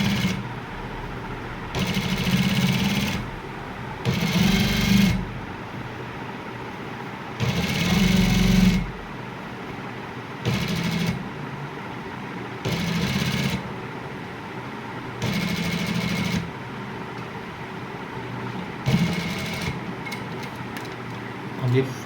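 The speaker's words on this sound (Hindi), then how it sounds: "अंदरूनी एक सिलाई किनारे की लगाते जाना है" Sewing machine running an inner stitch along the edge of a border strip, in repeated bursts of a few seconds each separated by pauses, close and clear, with soft-spoken talk in between.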